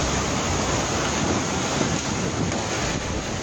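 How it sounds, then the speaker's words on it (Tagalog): Floodwater surges like crashing waves in Barangay Mahayahay, Iligan, a dense, loud, unbroken roar of rushing water with wind-like noise and no voices. "Tila humahampas na alo naman ang baha sa Barangay Mahayahay."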